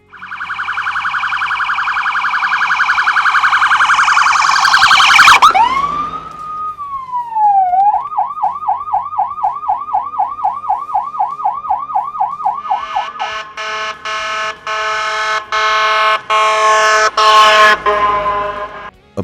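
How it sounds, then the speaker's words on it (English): A police siren cycles through modes: a long rising-falling wail, then a rapid pulsing yelp, then choppy bursts of electronic air horn, loud and close with no voices. "utilizing the T3, yelp, and electronic air horn modes of the siren"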